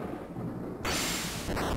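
A thunderstorm in the Golden Sun video game rumbles low and steady before a sudden burst of loud crashing rain-and-thunder noise takes over, sharp and full.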